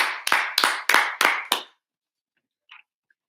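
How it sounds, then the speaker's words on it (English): Small studio audience gives a brief round of applause: about six loud, distinct clap bursts close to the microphone, stopping abruptly into silence with a faint sound afterward. "How about a round of applause for Neil in the audience?"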